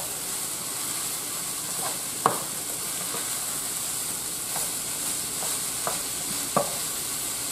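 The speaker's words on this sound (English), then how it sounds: "Let's give that a stir" Corn and black beans stirred in a hot pan give a steady sizzling hiss, broken by a few soft, scattered scrapes of the spoon.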